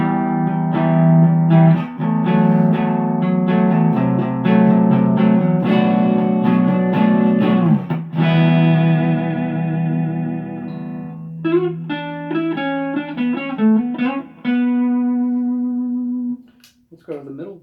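A 1986 Charvel Model 4 electric guitar played through a small Roland Micro Cube amp gives distorted, strummed chords and riffs, then lighter picked notes and a ringing fade, close and fairly loud.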